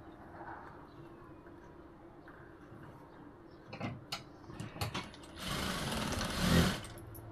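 A sewing machine stitches a blouse seam in a short, loud mechanical burst near the end, following quieter handling and clicks.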